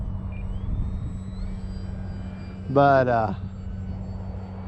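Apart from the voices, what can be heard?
airplane engine running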